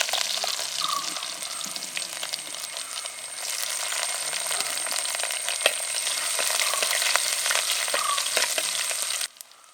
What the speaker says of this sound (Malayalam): കടുക് പൊട്ടി വന്നിട്ടുണ്ട്. അതിലേക്ക് നമ്മൾ വെളുത്തുള്ളി കൊടുക്കാൻ പോകണം.